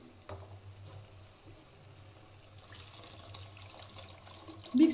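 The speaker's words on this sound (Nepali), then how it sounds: "मिक्स गरेर राखेको पानी हालिदिनु होला" Water is poured into a pan of fish gravy, at first a faint, soft trickle that swells into a fuller, splashing stream.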